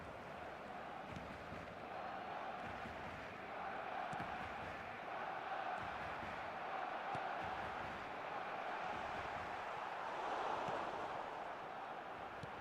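A full stadium crowd in the eFootball soccer video game keeps up a distant, constant roar and murmur that rises and falls gently throughout, with no talk.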